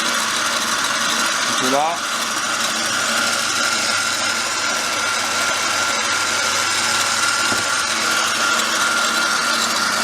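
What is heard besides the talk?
stand mixer whisk beating macaron meringue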